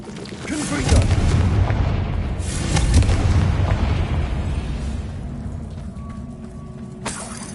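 Confringo fire spell exploding in the Hogwarts Legacy video game, a dense rumbling blast swelling around one and three seconds, then fading into a lower, steady game ambience with a faint tone near the end.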